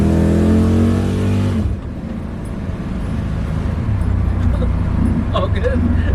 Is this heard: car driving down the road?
yes